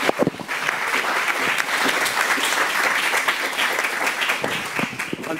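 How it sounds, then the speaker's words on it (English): An audience gives a final round of applause for two authors at a book event, dense, steady clapping from a full room that holds evenly for several seconds. "perhaps one last round of applause for"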